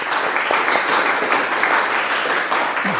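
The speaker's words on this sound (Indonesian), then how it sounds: "Beri tepuk tangan untuk teman-teman kalian semua ya." Classroom of students applauding their classmates during a mathematics lesson, a steady, dense clapping that stays at an even level for the whole stretch, fairly close, with no talking over it.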